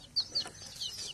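Farmyard chickens clucking in a couple of short close bursts, with a high thin bird chirp over light background noise.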